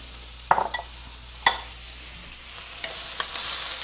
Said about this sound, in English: I'm ready to add the onion in there. It's nice and hot, so you can hear the sizzle.